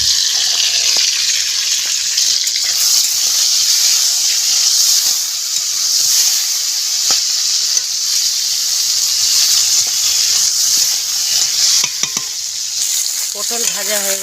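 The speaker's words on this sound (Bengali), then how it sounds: "মাছ ভাজায় দিয়ে দেবো গোটা গোটা রসুন" Fish frying in hot oil with whole garlic cloves added, over a wood-fired clay stove, giving a loud, continuous hissing sizzle and steam with occasional stirring scrapes, ending in a few clinks of a utensil.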